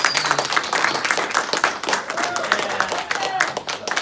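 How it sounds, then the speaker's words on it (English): An audience applauds a presenter at an Enagic event, a burst of many hands clapping close by, with a voice speaking over part of it. "Give him a round of applause."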